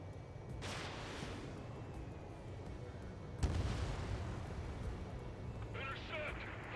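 Anti-aircraft fire and explosions in the Ace Combat 7 video game, a steady rumble of distant blasts with a sharper burst midway, under a dense wash of noise and radio voices talking.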